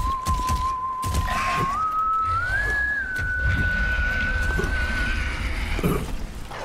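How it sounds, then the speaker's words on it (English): A single whistled tone in a video game, held steady and then gliding upward in a couple of steps. It sounds loud and clear over rumbling ambient noise and faint hoof-like clatter. "Someone was whistling."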